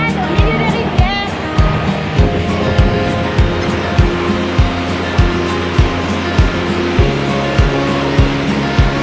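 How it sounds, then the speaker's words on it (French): Water pours over a waterfall in the middle of a river in the Vietnamese woods, a loud, steady rush close by, with soft knocks recurring at a regular rhythm. "On est en haut d'une cascade au milieu de rivière."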